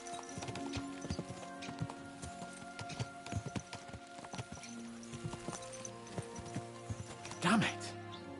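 Horses gallop in Kingdom Come: Deliverance II, their hooves clip-clopping in quick uneven beats over a sustained musical background, ending with a louder whinny-like burst.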